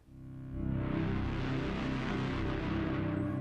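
A loud, thick synth bass with an added lower octave drones with a deep growling low end and gritty distortion, sustained steadily after a short quiet start, through an Eventide H9 plug-in.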